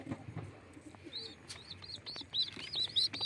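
Thin, high-pitched chirps of pigeon chicks repeat in quick bursts, growing louder and more frequent toward the end, close by and over faint low background noise.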